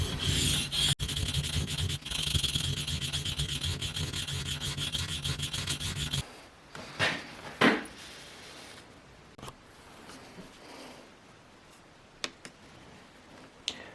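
A Scandi grind LT Wright Lagom knife is stroked across a waterstone. Continuous rhythmic rasping rubs fill the first half, then give way to sparse scrapes and light taps, all close and with no talk.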